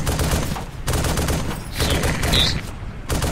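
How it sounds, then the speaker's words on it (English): Dense, continuous gunfire in the military video game Arma 2 Warfare mode, overlapping bursts and volleys rolling steadily for a few seconds at moderate loudness, with brief dips between them. "they're just sitting there, they're like, hey, this guy's shooting at us"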